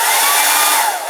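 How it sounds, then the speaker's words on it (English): Hair dryer blowing on wet watercolour paint, a loud continuous whooshing roar held close to the mic that dips slightly near the end. "I really apologise for the use of the hairdryer"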